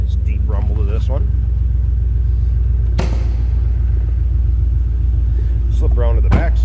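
Deep, throaty exhaust rumble from a 2010 Ford Mustang GT V8 idling steadily up close, with someone speaking briefly over it at the start and end and a short thump midway.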